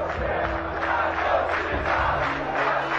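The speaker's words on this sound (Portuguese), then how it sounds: "A torcida do Vasco canta o hino." Vasco da Gama football supporters sing the club anthem together in a stadium, a broad, sustained chorus of massed voices that rises and swells, heard from afar.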